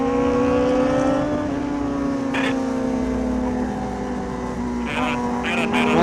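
Motorcycle approaching on an uphill road, its engine a loud steady whine with slowly shifting pitch, carried under excited voices talking and calling out.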